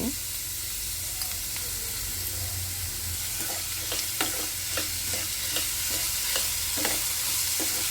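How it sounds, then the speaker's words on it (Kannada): Vegetables frying in oil in a pan, a continuous close sizzle with repeated sharp scrapes and taps of a stirring spoon through the second half, no talk. "ನೋಡಿ ಇಷ್ಟು ಫ್ರೈ ಆಗಬೇಕಾದ್ರೆ"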